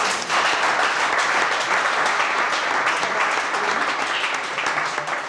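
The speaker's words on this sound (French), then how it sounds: "a carrément droit aux applaudissements" Sustained, loud crowd applause for a young female firefighter trainee who has just finished a timed test, dense clapping running steadily throughout with no talking over it.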